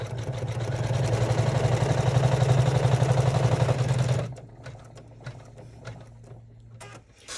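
Embroidery machine stitching a tack-down line on a sling backpack held in the hoop: a loud, steady mechanical whir with a rapid stitching rattle for about four seconds, then it stops, leaving faint handling clicks.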